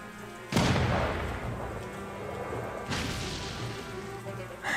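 Cannon artillery in the Banner of the Maid strategy game fires twice, each a sharp, loud boom with a rumbling decay, spaced a couple of seconds apart.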